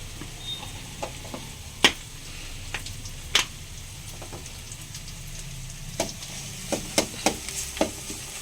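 Ginger garlic paste frying in a pan, a soft steady sizzle with scattered sharp clicks and pops throughout, close and moderately quiet with no talking.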